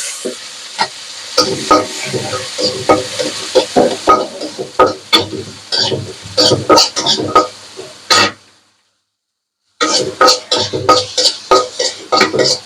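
Chopped onion, garlic and chili fry in a pan for bhorta, with a loud sizzle under frequent sharp scraping and tapping of a stirring utensil, a brief silent gap, then more sizzling and stirring clatter.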